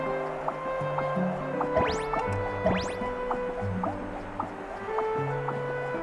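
Water droplets drip in a video game over layered background music, a few soft plinks breaking through the steady tones; no one speaks.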